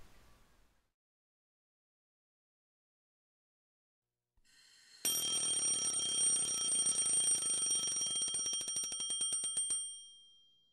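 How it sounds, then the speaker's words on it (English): Loud electronic alarm clock ringing in the game Lucy -The Eternity She Wished For-, a bright sustained multi-tone bell pattern with rapid pulsing that starts abruptly after a stretch of silence, runs about five seconds and then cuts off. "I shut off the alarm by reflex"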